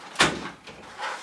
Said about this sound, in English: Should close the door.